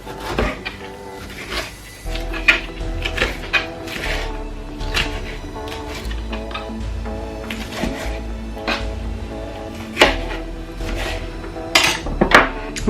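A knife slices through a lemon on a cutting board, giving a run of uneven, close knocks and scrapes of the blade, with faint kitchen clatter between cuts.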